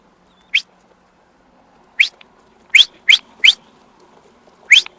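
A person gives six short, sharp whistles to pigeons, rising and falling at irregular intervals, spaced over a few seconds against a quiet outdoor background.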